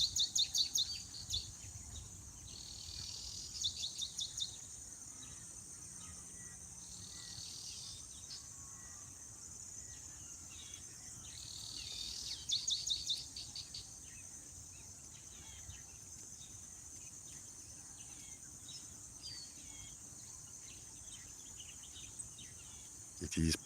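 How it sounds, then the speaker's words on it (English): Wild birds calling in a forest habitat where a crested hawk eagle hunts: faint bursts of chirping recur now and then over a constant high insect drone, soft and distant. "You do hear the beautiful birds."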